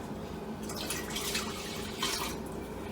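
Beef broth pours into a pan for a green peppercorn sauce, two short splashing bursts of liquid over a low background hum.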